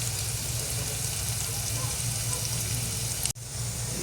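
Butter sizzling in a frying pan while cooking an omelette, a steady close hiss and crackle that runs evenly, then briefly cuts out near the end before resuming.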